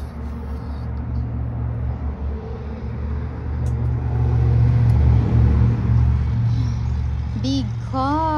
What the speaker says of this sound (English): Big car!